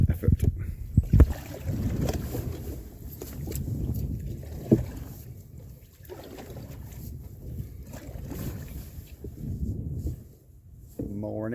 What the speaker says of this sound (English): we might be able to paddle around the corner without too